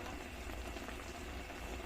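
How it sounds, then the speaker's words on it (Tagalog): Fish paksiw with tomatoes bubbles in a covered pot, a soft, steady boiling hiss and crackle with no pauses, faint and close. "Yan guys, nakulo na siya guys."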